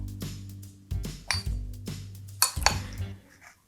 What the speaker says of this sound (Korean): 드적드적 섞어주세요.